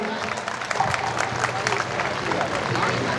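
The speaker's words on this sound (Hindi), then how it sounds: "तालियां बजाएं, तालियां बजाएं।" A large crowd at an awards ceremony claps continuously, a dense, steady patter of applause with voices mixed in.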